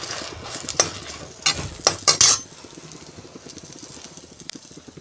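Garlic and ginger fry in a hot pan, a steady close sizzle with several sharp stirring scrapes and clinks of a utensil against the pan early on, then settling back to a constant crackle.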